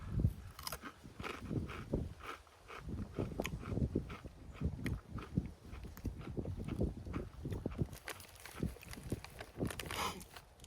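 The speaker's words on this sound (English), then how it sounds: "feel like you have to chew it more to really get through it" Someone bites and chews crunchy rolled Takis Fuego chips from a Wendy's meal, giving repeated close, dry crunches in an uneven rhythm that continue steadily for about ten seconds with no talk.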